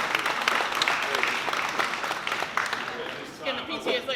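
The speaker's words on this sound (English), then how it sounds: "Give Ms. Marquez another round of applause" Audience applause for Ms. Marquez at a school celebration honoring a student, a dense, steady clapping wash that tapers slightly near the end, with voices mixed in.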